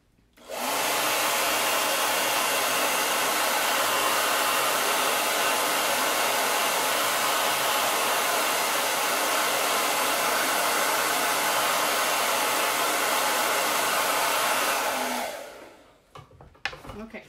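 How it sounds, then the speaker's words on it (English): A hair dryer runs steadily and loudly, blowing to dry paste on a handmade card, holding a constant roar before cutting off near the end with a few small handling sounds. "Let me just blow dry it real quick."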